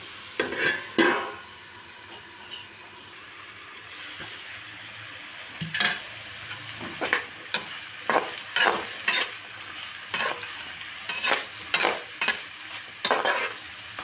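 Pieces of bottle gourd cooking in a pan for a curry, with a steady soft sizzle under a series of sharp, evenly spaced scraping strokes from a spatula stirring them, close and fairly loud, no talking.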